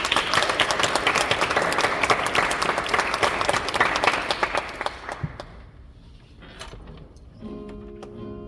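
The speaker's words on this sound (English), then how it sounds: "Round of applause, please." An audience applauds guitarist Elise at a live performance celebration, loud dense clapping for about five seconds that thins to scattered claps, then quiet tones.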